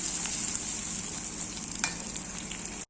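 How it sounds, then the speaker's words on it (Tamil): Onions sautéing in a pan, a soft continuous sizzle and crackle with light stirring, heard close and alone before a brief cut. "நம்ம இந்த ஸ்டேஜில் வெங்காயத்தை சேர்த்துடலாம். வெங்காயம் வதங்கட்டும்."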